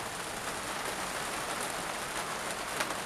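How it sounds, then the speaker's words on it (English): Steady rain falls outdoors in Ireland, an even, close hiss of drops on surfaces with no pauses or voices over its few seconds. "And there's the rain."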